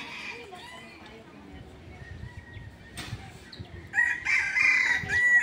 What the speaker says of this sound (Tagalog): may itlog nga yung isa ron Puti, ayun, naglilimlim